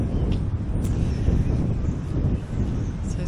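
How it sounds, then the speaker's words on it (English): Strong wind buffeting a microphone outdoors in northwest Scotland, a dense, low rumbling roar that stays steady and loud for a few seconds with no clear pauses. "So it's very windy."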